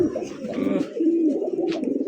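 A Gorra breed pigeon coos up close in a low, rolling, throaty call, repeated in a soft steady rhythm with faint background noise.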